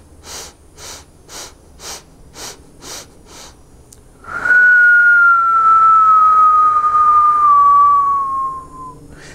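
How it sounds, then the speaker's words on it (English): Kundalini meditation breathing: seven short, rhythmic sniffs in through the nostrils, then a long, loud whistled exhale through puckered lips, its pitch sliding gently downward for several seconds, close and alone. "you're going to exhale through puckered lips as a whistle"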